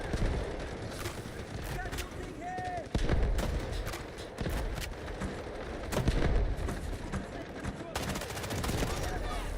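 Repeated gunfire in a first-person shooter game, with sharp bursts and volleys of shots, some heavier booming hits, running steadily for nearly ten seconds under occasional speech.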